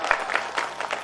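Audience clapping at a Ram Katha religious discourse in Pithoragarh, a short burst of scattered hand claps from a crowd, moderately loud and brief.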